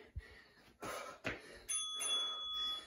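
A bell rings several times during a lower-body workout, with a soft thump first, then a few sharp rings, and finally a longer, clear sustained tone. All of it is fairly quiet and alone, with no voices.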